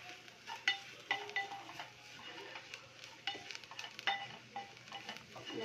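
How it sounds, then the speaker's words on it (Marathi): Spices frying in a pan for a traditional Bhogi vegetable dish, a soft quiet sizzle broken by scattered clinks and scrapes of stirring, with no talking. "आपण जरा मसाले थोडे फ्राय करून घेऊ"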